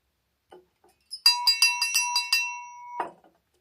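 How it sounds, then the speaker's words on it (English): Glass clinking inside a room with an old violin, a quick run of bright ringing chimes that linger briefly, followed by a duller knock. "what was that noise I heard in here? It sounded like some kind of glass."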